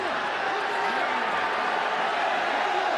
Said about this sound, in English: Crowd getting restless.